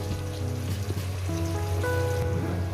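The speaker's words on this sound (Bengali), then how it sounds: "বাটি ধোয়া জলটা আমি একটু দিয়ে দেবো সামান্য পরিমাণে" Bowl-rinse water is poured into a pan of vetki fish bone chorchori with vegetables, making a continuous close trickling rush over a steady tonal hum, with no speech.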